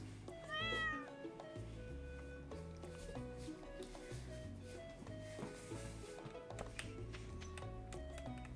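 A cat meows in the video game Stardew Valley, one short rising meow near the start over a gentle in-game music track with soft ticking and tapping game sounds.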